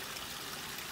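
Water from a pond shower filter trickles and splashes steadily and continuously, a close, even wash of running water with no voices over it.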